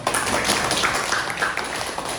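A classroom of pupils clapping together for a classmate's correct answer: a brief, dense burst of many hands, steady and moderately loud throughout, with no talking over it.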